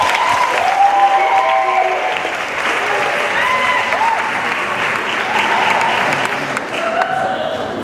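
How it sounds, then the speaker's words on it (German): A live audience claps steadily at a Swiss comedy show, a dense, even wash of applause that holds for several seconds and fades slightly toward the end, with no speech. "Der Applaus ist sehr wichtig."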